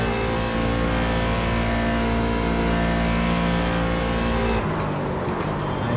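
A race car engine in the iRacing sim at Daytona drones loud and close at high revs, a sustained buzzing roar that drops away abruptly near the end.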